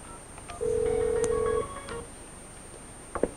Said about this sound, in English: I transfer, and maybe I dial someone else